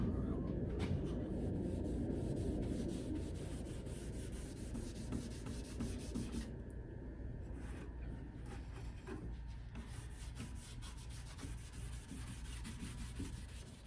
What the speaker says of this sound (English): just wipe it on with a cloth